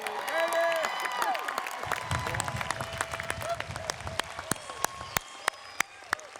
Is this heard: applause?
yes